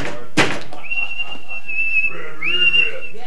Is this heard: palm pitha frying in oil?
no